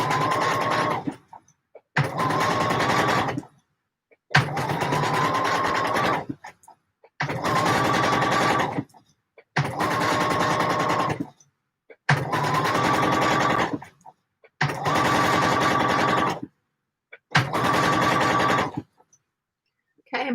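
A sewing machine stitches a McCall's 7537 garment in loud, even runs of about two seconds each, stopping briefly between bursts, close and alone without voices.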